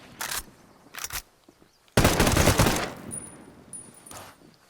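DMR rifle fire in Ghost Recon Breakpoint: a few sharp single shots, then one loud blast with a long ringing tail, followed by quieter echoes and a faint high tone.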